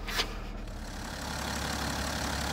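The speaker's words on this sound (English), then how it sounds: "Okay, the engine's just been started for a few minutes. I'm just going to let it idle for a while." 2012 BMW 530d with an N57 diesel engine idling on a driveway, a steady low rumbling drone with slight judder, heard close and alone after a brief knock at the start.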